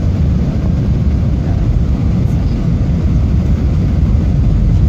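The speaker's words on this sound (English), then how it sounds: "this is exactly where the airplane's landing" Steady, loud low rumble of a passenger airplane's engines fills the cabin as it lands in Phoenix, Arizona, a constant roar with no clear touchdown thump.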